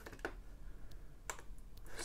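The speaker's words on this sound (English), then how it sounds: "test the keyboard, which is always a problem, oftentimes" Keys clack on the keyboard of an Amiga 1200 computer under repair, a few scattered, fairly faint taps and clicks over low background hum.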